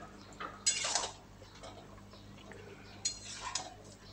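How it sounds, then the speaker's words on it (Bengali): Katwa data chorchori, a vegetarian drumstick curry with salt and ginger paste, stirred in a pan, faint clinks and scrapes of the spoon against metal in two short clusters over quiet background hum. "এবার সব কিছুকে বেশ ভালো করে নাড়াচাড়া করে নিচ্ছি।"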